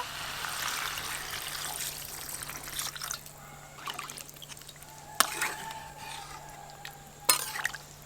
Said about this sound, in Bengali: জল দেব পরিমাণ মতো।